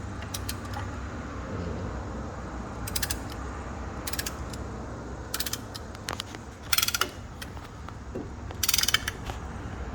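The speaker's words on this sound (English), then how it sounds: "the piston is pushing in with the ratcheting motion of our caliper press" A brake caliper press being ratcheted to push in a piston during a 2001 Pontiac Grand Am brake pad job, bursts of quick metallic clicks in several short runs over low background hum.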